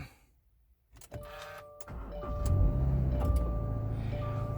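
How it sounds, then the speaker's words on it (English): A Subaru Forester engine starting up: a quiet pause, a few clicks and a whir, then the engine catching and settling into a steady low idle with faint chimes. "we'll start the vehicle up"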